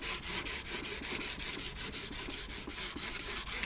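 Sandpaper, fine 400 grit, rubbed back and forth over the sides of a square silver chain piece, a quick steady rasping rhythm of about five strokes per second, close and fairly quiet.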